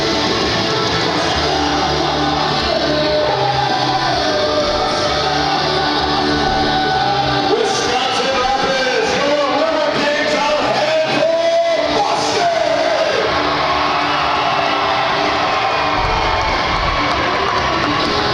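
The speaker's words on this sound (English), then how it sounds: "Listen to that crowd roar" A big home crowd at a Riverkings hockey game roars and shouts continuously, a loud dense wall of cheering with rising yells and whistles, swelling in the middle and staying strong throughout.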